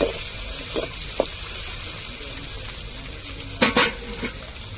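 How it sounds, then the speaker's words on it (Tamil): Tomatoes with onions sauté in a pan, a constant soft sizzle with a few spoon clicks and a pair of louder scrapes or knocks near the end, with no voices. "இப்ப தக்காளி சேர்த்துக்கிருவோம். தக்காளி வெங்காயத்தோட நல்லா வதங்கட்டும்."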